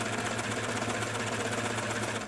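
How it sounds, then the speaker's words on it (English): An overlocker serges steadily around the curved edge of denim jeans, a continuous close mechanical whir with a fine rapid stitching pulse that holds for the whole stretch before easing off at the end. "I'm just going to overlock around the curved edge here."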